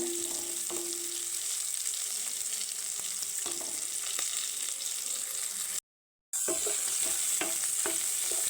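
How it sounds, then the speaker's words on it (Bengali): Onions fry in a pan for a cauliflower and potato curry, with a steady close sizzle and occasional stirring clinks throughout, briefly cutting to silence before the hiss resumes. "পেঁয়াজটা আমার ভাজা ভাজা হয়ে আসছে।"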